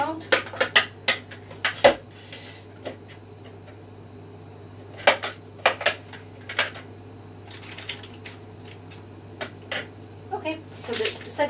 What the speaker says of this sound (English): the second mold is going in the oven